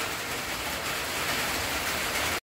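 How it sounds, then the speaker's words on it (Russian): Heavy rain pours down in a dense, steady roar of hiss that fills the short stretch without pause, then cuts off abruptly at the end. "но дождь бабахает"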